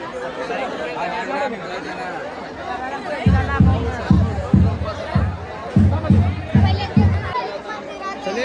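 Dense crowd chatter fills a temple courtyard during the Champa Shashthi festival, many voices overlapping at close range, with a run of rhythmic low thumps partway through.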